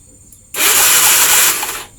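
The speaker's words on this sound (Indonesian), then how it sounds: "Sekarang saya cek businya sama electric starternya nyala." A Honda Vario 110 motorcycle's electric starter cranks in one loud, close burst of whirring for about a second, then cuts off.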